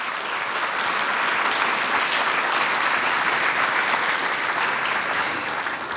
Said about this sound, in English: let's give them again, all of them, a round of applause